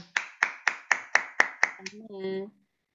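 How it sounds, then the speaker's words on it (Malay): About eight sharp, evenly spaced claps ring out close by during a presentation skills course session, then a brief voice follows. "Tepukan."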